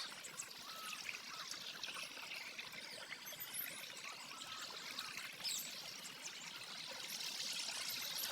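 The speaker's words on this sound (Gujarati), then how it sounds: "આપણે પાણી વાળતા વાળતા આવી ગયા" Irrigation water runs along a field channel past mustard crops, making a steady soft trickling and gurgling flow that stays continuous throughout, with no voices.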